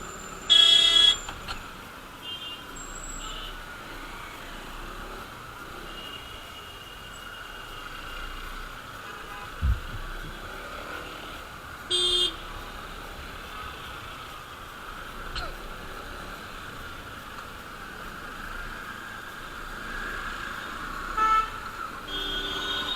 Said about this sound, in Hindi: ये तो ट्रैफिक लग गया